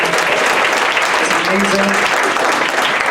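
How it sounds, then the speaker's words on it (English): Loud, dense applause from a comedy show audience fills the room, steady throughout, with voices talking and calling out over the clapping. "how about a round of applause for David and Eugenia and the World Mental Health Project"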